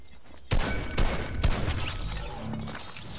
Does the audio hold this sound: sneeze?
no